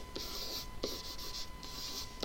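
A pen scratches across paper while a flow chart of circles is drawn for a two-step equation, with three bursts of quick scribbling separated by short pauses, close and fairly quiet over a faint steady hum.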